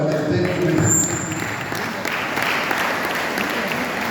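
A church congregation claps at a pastoral ministry gathering, starting with overlapping voices and a brief whistle before settling into steady, fairly loud applause from the room.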